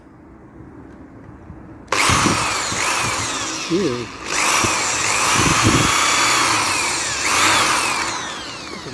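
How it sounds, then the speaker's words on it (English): An old corded electric drill, more than twenty years in use, drilling holes in front panels: a loud, steady high-pitched motor whine that starts abruptly, dips briefly, then continues. A short spoken exclamation is heard over it. "The drill also runs a bit quicker."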